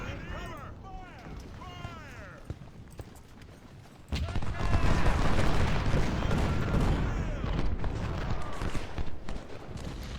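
Artillery fire in the Civil War strategy game Ultimate General: Civil War, Mansfield battle: a scattered volley of booms gives way after a few seconds to a loud, dense fusillade of cannon and rifle fire, with game effects mixed in.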